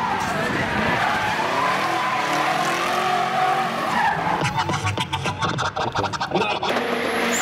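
Car tires squeal and skid during drifting, a loud wavering screech that rises and falls, then breaks into rough scraping bursts toward the end, with engine noise underneath.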